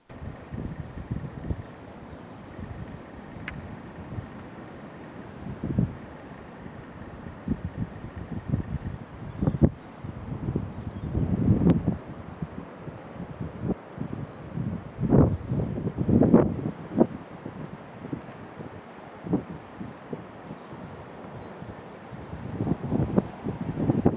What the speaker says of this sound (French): Il y a plusieurs fois le bruit du vent dans le micro